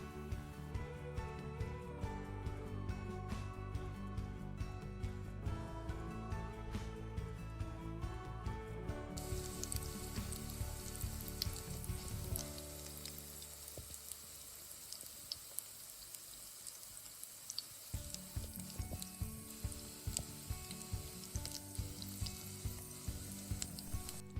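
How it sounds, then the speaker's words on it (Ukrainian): Continuous crackling sizzle of onion fritters frying in a pan until golden on both sides, dense and close, with a few clinks and scrapes and no talking. "Смажимо на сковорідці з обох сторін до золотистої скоринки."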